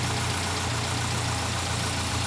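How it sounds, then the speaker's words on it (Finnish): An old car engine with a 20-year-old belt idles at about 900 rpm, a steady low rumble that holds constant and close with no one speaking. "Nyt on aika tarkka 900 tyhjäkäynti."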